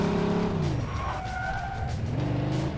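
A car in Mafia 2 drives hard and skids, its engine droning steadily while tires squeal loudly through the middle, with no talking.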